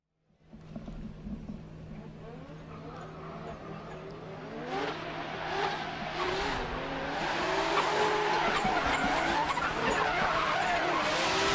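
Drift cars sliding with loud tire squeal and revving engines at a French drift championship battle, the screeching building and growing denser toward the end, with faint commentary underneath.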